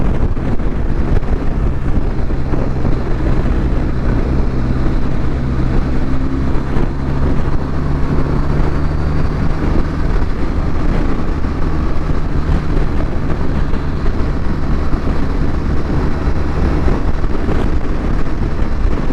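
Steady roaring wind buffeting the microphone while riding a 2021 BMW R1250RT touring motorcycle, with a low engine and road drone underneath, loud and unbroken throughout.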